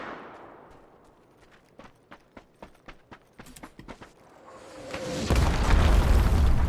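Rapid gunfire in the battle royale game PUBG, a string of about a dozen sharp, distant-sounding cracks in uneven rhythm, followed by a swelling loud rumbling roar.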